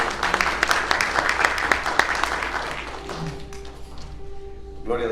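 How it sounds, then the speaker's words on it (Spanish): Church congregation applauds with quick, rhythmic clapping that fades out after about three seconds. Sustained keyboard tones rise underneath, and a voice comes in near the end. "Denle un aplauso al Señor"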